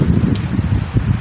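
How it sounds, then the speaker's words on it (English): Wind on a hilltop in a Philippine jungle setting, gusting in a low rumbling buffet across the microphone, steady and close with slight rustling. "Look at the wind. Yeah, it's quite windy today"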